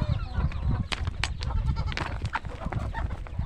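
Goats bleat repeatedly inside a goat house, several overlapping calls close and loud over a noisy farmyard background, with some chicken sounds mixed in.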